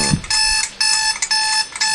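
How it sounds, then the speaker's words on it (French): A loud electronic alarm clock rings in a bright, pulsing tone, sounding in several sustained bursts with brief gaps, close and insistent in a home in the morning. "Ton réveil sonne."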